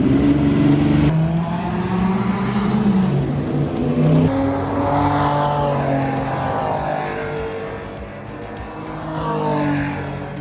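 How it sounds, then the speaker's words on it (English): Historic race cars rumble and rev in the pits during a historic motorsport race, engines rising and falling in pitch as they pass close by, loud and continuous with no talk. "I had the chance to join the pits in the middle of the historical race and see up close some of the most beautiful cars in the history of motorsport."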